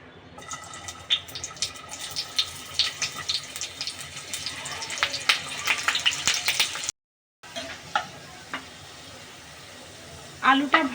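Large potato pieces fry in oil in a home kitchen, a steady soft sizzle with scattered crackles and pops, a brief gap of silence, then more sizzling and stirring.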